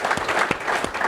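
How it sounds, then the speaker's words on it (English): A short burst of audience applause at an interview event, a steady patter of many hands clapping at moderate volume for a second. "you should give a round of applause"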